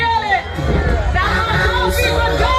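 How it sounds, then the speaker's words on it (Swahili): A lively crowd at a baby shower cheers, shouts and ululates together, loud and close, with excited voices overlapping in the festive noise. "naomba kelele tafadhali na vigelegele"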